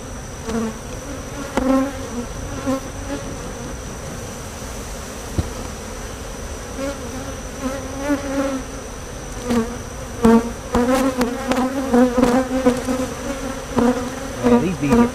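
Dense, droning hum of many bees buzzing in a hive, steady throughout with swelling bursts as individual bees pass close.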